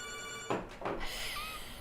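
Telephone lines ring on a bingo call-in show, a steady electronic ringing tone that carries on with a short break partway through. The sound is moderately loud and has no talk over it.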